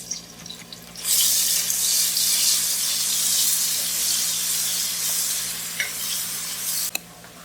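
Ginger garlic paste and spices roast in a pan for camel biryani, a loud steady sizzle from about one second onward with stirring scrapes, no voices.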